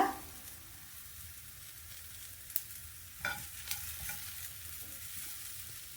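Coriander, chili and garam masala powders fry in an oiled pan, a close steady sizzle broken by a few scraping stirs of a spoon against the pan.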